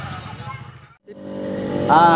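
A motorcycle engine idles and revs close by, a throbbing low drone that cuts out briefly, then returns and climbs in pitch toward the end, with people talking over it.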